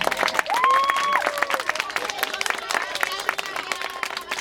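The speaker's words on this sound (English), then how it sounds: "And we'll give you a proper clap too." A children's audience claps together after a farewell count, a dense burst of hand claps that starts loud and carries on for several seconds, with a few voices calling out amid the applause.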